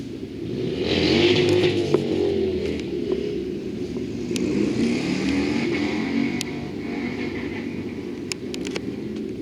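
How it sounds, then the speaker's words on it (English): A snowmobile and a motorcycle blast down a race track at a rally, their engines roaring loud and close with rising revs and sharp mechanical clatter; no voices. "Jesse on the snowmobile and Ray on the motorcycle as they blast down the track."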